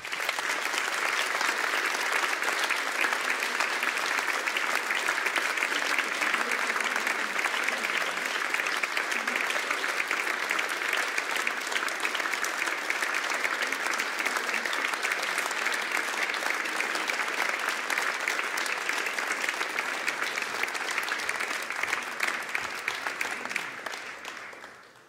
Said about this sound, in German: bitte begrüßen Sie mit einem stürmischen Applaus